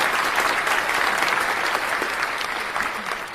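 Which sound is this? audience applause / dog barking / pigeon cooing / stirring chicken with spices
audience applause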